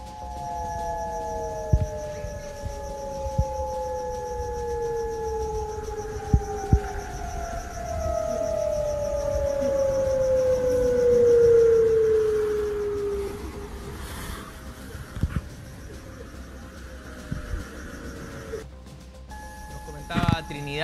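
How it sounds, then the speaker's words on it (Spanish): Civil defense sirens wail across the city of Arica, Chile, with long rising and falling tones sweeping over a distant hum; the sound carries from afar and holds steady for the whole stretch. "Escuchemos un poquito el accionar de las sirenas en la ciudad de Arica."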